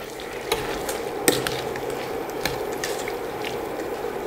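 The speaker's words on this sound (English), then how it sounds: "we continue to cook gently for about 30 seconds just to make sure that all the peel is coated with the sugar syrup" Candied citrus peel simmers gently in sugar syrup in a pan for Tuscan panforte, with a soft, steady bubbling sizzle and light stirring taps and scrapes at intervals, close by, with no talking.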